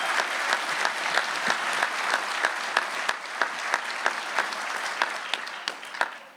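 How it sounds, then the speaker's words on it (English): Sustained audience applause fills a hall at the 2023 AMVETS National Convention opening ceremony in Pittsburgh, a dense wash of many hands with sharper individual claps popping out, steady and fairly loud throughout. "Let's give him a round of applause."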